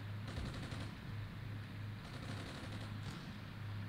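Tank guns and machine guns fire in the Armored Brigade war game, a Czechoslovakia and Netherlands main battle tank battle, with rapid bursts of distant gunfire over a constant dense rumble.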